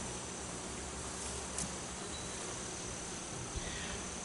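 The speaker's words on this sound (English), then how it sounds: "Bees on the lid, good numbers." Honeybees swarm over the lid of an opened hive, a dense, steady buzzing hum that fills the air with no voices.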